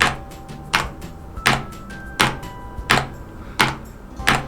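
Slow, deliberate mechanical keyboard keystrokes, one sharp clack every half second or so, close and distinct against a quiet background.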